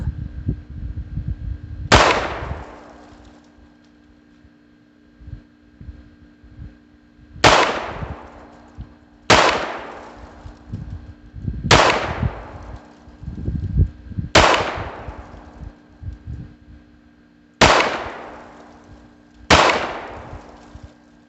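Beretta U22 Neos .22 pistol firing at a target, about seven sharp, loud reports spaced a few seconds apart, two nearly back to back near the end, with handling noise and faint shuffling between shots.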